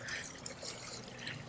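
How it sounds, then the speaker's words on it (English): Outside a Toll Brothers model home at Skye Canyon in Las Vegas, a water feature splashes and trickles in a soft, continuous spill, quiet and close, with no voices. "Nice water feature, however, that is not included."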